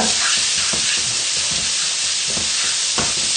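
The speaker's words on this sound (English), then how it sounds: "And give it a stir." Chopped onions sizzling in a pan with a tablespoon of tomato puree and chopped tomatoes for lamb jalfrezi, stirred with irregular scraping strokes over a constant loud frying hiss.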